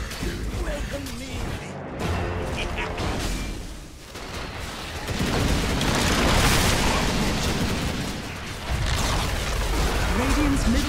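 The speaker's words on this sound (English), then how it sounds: "Radiant's middle tower has fallen." A tower collapses in a Dota 2 match, a broad crashing boom swelling out of dense game effects and music while voices talk throughout.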